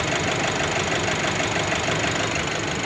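A Nissan Navara DDTi diesel engine, recently rebuilt, runs at a steady idle with a loud, continuous rough clatter and low rumble up close.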